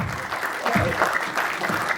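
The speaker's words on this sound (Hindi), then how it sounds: "इनके लिए तालियां हो जाए" Audience applause at a film trailer launch event, a brief continuous wash of clapping at moderate volume in a large room.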